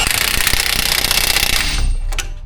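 A pneumatic impact wrench hammers a strut top hat bolt tight on a 2004-era Ford F-150 front quick strut, giving a loud, continuous rattling burst for about a second and a half before winding down.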